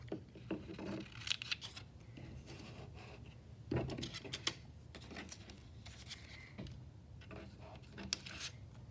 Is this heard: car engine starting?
no